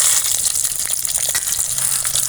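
Garlic, green chillies and chana dal fry in a hot pan, a dense close crackling sizzle that holds steady throughout the short stretch with no voices.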